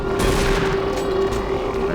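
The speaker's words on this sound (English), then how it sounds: "Stupid shotgun." Shotgun fire in the Doom 3 video game, a loud, dense run of blasts that merge into a continuous booming roar across two seconds.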